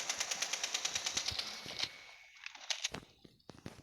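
In the Rainbow Six Mobile video game, rapid automatic gunfire rattles in a fast even rhythm for about two seconds, then scattered single shots and clicks follow.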